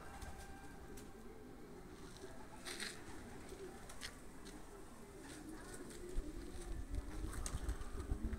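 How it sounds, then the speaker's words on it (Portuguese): Pigeons cooing softly in a flock outdoors, a steady low murmur of calls over faint background noise with a few brief louder bursts. "Olha lá a pombada, olha lá a pombada."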